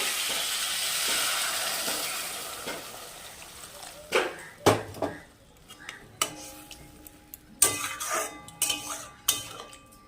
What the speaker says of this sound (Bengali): এবার আমি একটু এর মধ্যে জল ঢেলে দেবো